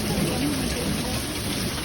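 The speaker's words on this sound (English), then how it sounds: "It's raining and rolling thunder and lightning" Heavy rain pours steadily during a thunderstorm in Tennessee, a dense constant hiss of drops close by with a faint low rumble underneath.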